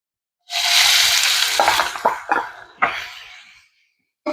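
Onion tipped into a hot pan with turmeric and green chillies for a beetroot stir-fry, erupting into a loud sizzle that fades in bursts as it is stirred, then drops to silence.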